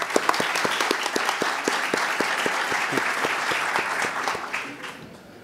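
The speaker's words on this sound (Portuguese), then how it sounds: "Uma salva de palmas aí para o doutor Eric." Applause from a congress audience on digital law, welcoming a doctor who joins the panel table, steady dense clapping throughout that fades at the end.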